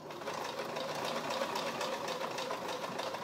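A sewing machine runs at a steady, rapid rhythm as it stitches a seam on a tote bag. The close mechanical hum and needle tapping continue without pause and without talk.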